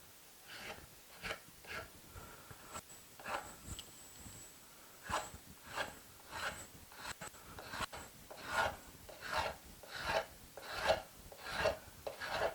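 A Bosch random orbital sander works over wood on a bench, producing repeated raspy abrasive bursts in a fairly regular rhythm, growing slightly louder and closer toward the end.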